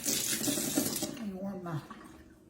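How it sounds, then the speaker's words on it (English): Tap water runs over a spoon at a kitchen sink in a short, close rush of splashing that fades out. A voice speaks over it. "rinse my spoon off"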